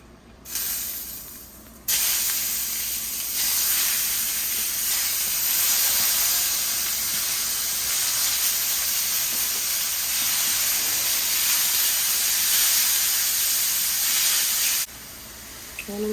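Beef hits a hot curry pan and sizzles, a loud, steady hiss that starts abruptly, holds evenly for many seconds, then drops back near the end.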